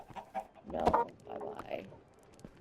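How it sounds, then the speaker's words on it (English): Chickens clucking in Minecraft, a few short game-fowl calls spread over a couple of seconds with a brief spoken voice mixed in. "Look at all those chickens."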